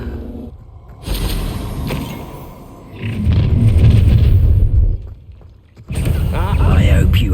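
A Bombarda spell in Hogwarts Legacy bursts into deep, rumbling booms that swell and roll for a couple of seconds among combat effects, loud and near, with game voices talking in between.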